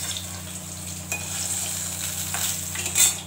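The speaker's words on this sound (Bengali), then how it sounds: "তুলে দিচ্ছি, মাছ ভাজা হয়ে গেছে" Bhola fish fries in a pan with a soft, steady sizzle and occasional stirring scrapes, heard close and fairly quiet without any voices.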